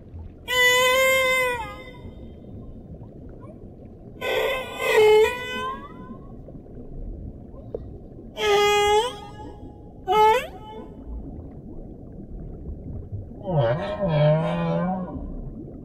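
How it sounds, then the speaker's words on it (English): Whales sing in the deep ocean, with long, drawn-out tonal calls that rise and fall in separate phrases, some moaning and some higher and whistle-like, spaced by pauses over a low watery rumble. "All the whales in each ocean sing the same song."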